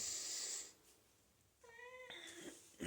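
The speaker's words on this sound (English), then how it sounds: "you're gonna have to deal with my cat meowing" A house cat meows indoors, a short rising call followed by a second, slightly longer meow, both close and fairly loud against a quiet room with a brief hiss of noise at the start.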